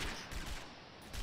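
Rapid automatic rifle fire in the shooter game Prism: Guard Shield, a Bantam R30 AK-9 rattling off dense bursts that pulse with short gaps, loud and close with no talk over it.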